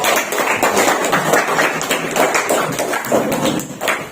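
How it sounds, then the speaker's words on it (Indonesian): A classroom group of teachers claps for a presenting group, a dense, steady patter of many hands filling the room for about four seconds with no talk over it. "Tepuk tangan dulu untuk kelompok."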